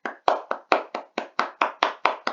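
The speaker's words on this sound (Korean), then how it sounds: "박수." Hands clap in a classroom, about ten sharp, evenly spaced claps in quick succession, close and clear with no talking.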